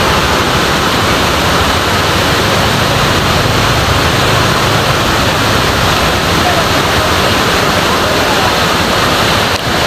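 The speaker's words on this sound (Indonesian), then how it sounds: "Dan sementara di bawahnya adalah sungai yang cukup dalam teman-teman." A deep river rushes below a roadside cliff, giving off a steady, loud, broadband roar of flowing water that runs unbroken from start to finish.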